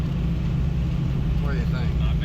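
A Chevrolet Nova on the road to a drag strip makes a steady, loud low engine and road rumble from inside the car throughout, with brief faint higher tones near the end.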